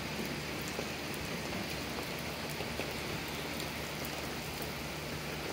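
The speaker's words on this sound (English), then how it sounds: "rain's picking up" Rain falls steadily during a thunderstorm, a dense, even hiss of drops spattering on surfaces nearby with no pauses, moderately quiet and alone without voices.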